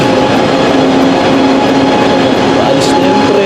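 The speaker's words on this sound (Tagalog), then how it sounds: "Alis na yung tren na sinikan ko." SRT high-speed train pulling out of a station in Osan, South Korea, a loud, steady rumbling roar with a faint rhythmic clatter, heard close and continuous without pause.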